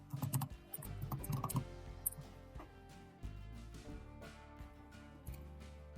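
Typing on a computer keyboard while entering Git commands, a close run of quick key clicks in uneven bursts with short pauses and no talk.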